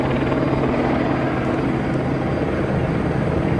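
A news helicopter flies overhead, its steady rotor drone and engine roar filling the scene continuously at a loud, even level with no talk.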